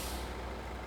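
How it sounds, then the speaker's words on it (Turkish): A handbrake is pulled on a Case JX110 tractor in a farming simulator game. It gives a steady, close, airy hiss that fills the short moment with no talk. "El freni çek diyor."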